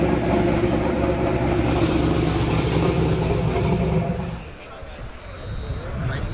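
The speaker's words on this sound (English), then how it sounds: "So this is the twin turbo Huracan." A twin-turbo Lamborghini Huracan rumbles and revs loudly at an E85 car meet, a deep steady engine drone that eases off near the end, with voices over it.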